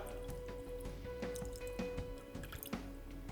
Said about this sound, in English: to make the jelly, I'm going to use about 150 ml of water